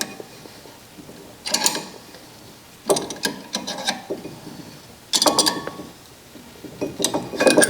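C-clamp being tightened to push a brake caliper piston back during a brake pad replacement, heard as bursts of close metallic ratcheting and creaking screw turns with quieter pauses between them.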